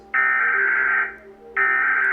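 Two long, loud steady electronic tone bursts of the US emergency alert system, each about a second, separated by a short gap, with no voices.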